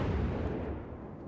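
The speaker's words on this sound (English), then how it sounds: "See if I can get some shots off on him." A heavy naval gun fires in the World of Warships game, a single loud, low boom that swells at once and then rolls away over about a second.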